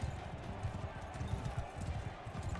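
Horse hooves galloping in the video game Mount & Blade 2 Bannerlord, a steady rapid low thudding rhythm running throughout amid battle noise.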